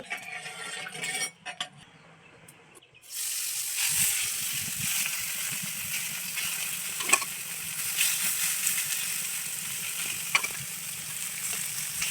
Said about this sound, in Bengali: তো আমি সরষার তেল দিয়ে দিচ্ছি কড়াইতে